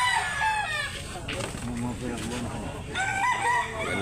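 A black-legged rooster at a chicken market in Consolacion, Cebu crows and clucks loudly and close by, with people talking over it.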